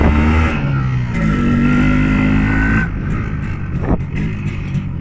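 An MZ ETZ 251 motorcycle engine runs steadily up close, its low rumble shifting pitch as it revs, loud and continuous throughout.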